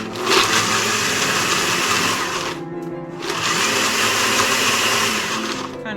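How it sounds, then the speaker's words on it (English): A blender whirs loudly through vegan pizza sauce ingredients, running steadily, stopping for a moment, then starting again and running on. "let's get this on the blender, and then we'll just start making our sauce"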